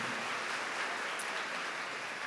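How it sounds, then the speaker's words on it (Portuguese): A crowd applauds at a Catholic camp, a steady and fairly soft wash of clapping from a large audience that fills the whole moment without any talk over it. "Pode aplaudir, pode aplaudir."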